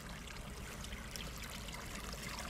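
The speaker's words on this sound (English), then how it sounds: "So all the water, it comes back into the creek right here" Water from an off-grid hydro power setup flowing back into a creek, a steady, faint rushing trickle that continues unbroken, with no voices.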